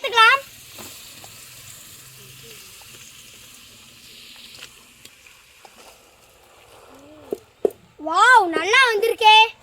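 Pasta tossed into a sizzling pan for a village-style pasta dish, giving a steady soft frying hiss for several seconds, with a voice and other speech rising loudly near the end.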